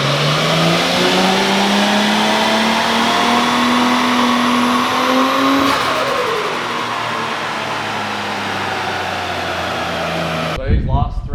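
An RB25DET engine fitted with a China turbo revs hard on wastegate pressure, its pitch climbing through a loud sustained pull before settling, with a sharp burst at the end.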